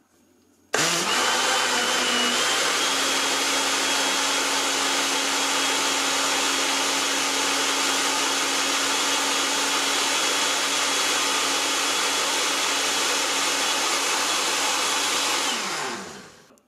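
An AICOK blender runs on milk, banana and blueberries, a loud continuous motor roar starting abruptly and holding steady for about fifteen seconds before winding down.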